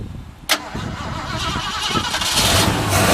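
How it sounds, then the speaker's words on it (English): A 1955 Ford F100 pickup engine cranks and catches after a sharp click, then settles into a steady, rising idle rumble close by. "We'll go ahead and fire this one up for you."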